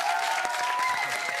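A TV studio audience claps in a short, bright, dense burst of applause that holds steady throughout.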